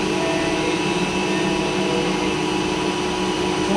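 A large 1960s lathe runs with its lead screw feed engaged, producing a loud, steady mechanical drone and whine with a continuous hum, close and unbroken for a few seconds.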